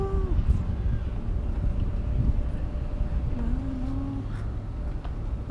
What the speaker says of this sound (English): the wind's blowing this time, so the flag's actually up